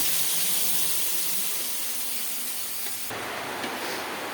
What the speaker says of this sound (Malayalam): അരച്ചിട്ട് ഇത് നമുക്കിതിലേക്ക് ഒഴിച്ചെടുക്കാം.